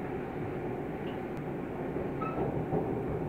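A steady low rumble of a moving London Overground train between Watford Junction and Watford High Street fills the clip, constant and enveloping, with a faint high squeal briefly rising near the end.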